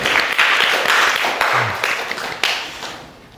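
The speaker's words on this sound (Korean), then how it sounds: "우리 박수로 하나님께 영광 돌리겠습니다" A church congregation at a summer retreat worship service claps together briefly, a few loud, near bursts of applause that fade out within a few seconds.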